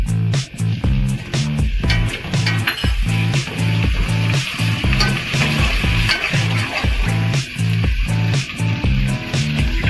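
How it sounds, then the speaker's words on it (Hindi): Loud, continuous sizzle of onions frying in oil, with rhythmic scraping and stirring knocks repeating steadily throughout. "ये ऑयल डाला है, ऑयल में प्याज डाले हैं"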